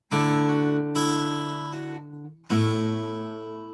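Guitar notes pinched together with two fingers, three ringing plucked chords played one after another, each struck cleanly and left to sustain, alone and fairly close.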